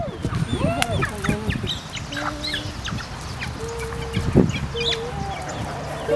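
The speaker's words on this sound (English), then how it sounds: "I don't want to get bitten by the chicken." Chickens clucking and calling in an outdoor yard in Hawaii, several short irregular clucks and squawks close by, one louder call near the end, over a constant background murmur.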